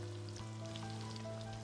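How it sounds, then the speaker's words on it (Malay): Ground spice paste sautés in a wok for chicken in spicy soy sauce, giving a steady soft sizzle with faint crackles over a low constant hum, and no talking. "Kemudian tumiskan bahan yang telah pun kita kisar tadi."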